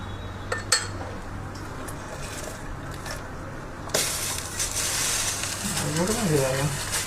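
A small spoon clinks against a hot kadhai while caramel for crunchy popcorn is stirred, followed by a steady close sizzle and scraping as someone speaks over it.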